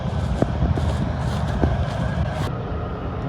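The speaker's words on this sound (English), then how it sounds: "That's it, we're unloading now." A farm tractor unloading grain during the winter barley harvest gives a loud, steady mechanical rumble with a few sharp knocks and clanks; the noise continues throughout.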